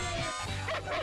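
Hounds released to wake a sleeping girl, several dogs barking and yipping in quick overlapping bursts, close and lively, with no talk.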